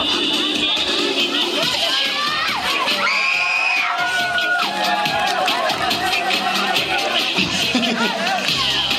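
A crowd cheers and shouts at the side of a football field, including many children's voices, loud and continuous with excited whistling cries rising over the babble.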